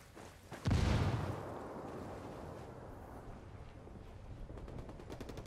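Video game firefight with a sharp, loud shot or blast near the start that rings out, followed by a steady rumble of combat noise and faint scattered pops toward the end.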